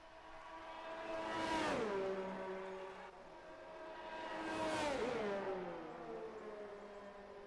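Formula One race car engines screaming down the back straight at Suzuka in an F1 racing game, two cars passing close in turn at full throttle, each pitch rising then dropping sharply as it sweeps by.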